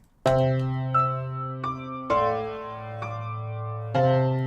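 A synthesized, piano-like tone with a chorus effect plays several sustained notes with a slightly wavering, doubled shimmer, each note struck cleanly and ringing out.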